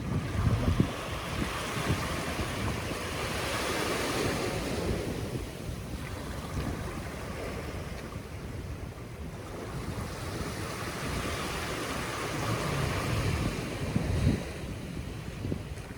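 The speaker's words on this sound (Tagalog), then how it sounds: "Ganito ang ating makikita sa sa bagyong Krising dito sa Manila Bay." Sea waves wash steadily against the shore of Manila Bay during a typhoon, with a constant roar of surf and heavy wind buffeting the microphone. No one speaks.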